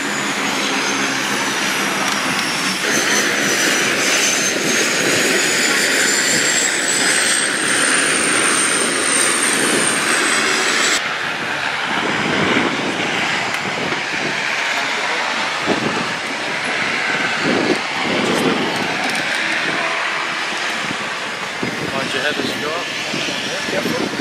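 Passenger airplane taking off on a trip to the Maldives, a loud sustained engine roar heard from inside the cabin that builds and shifts in pitch over about twenty seconds, with some voices underneath.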